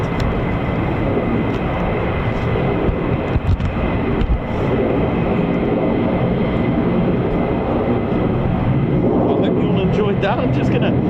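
An F-15 or F-35 fighter jet makes a low approach over the runway at RAF Lakenheath, a loud, steady roar filling the air throughout. Voices are heard talking over it.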